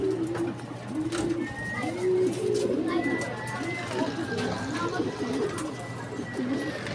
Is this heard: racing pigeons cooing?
yes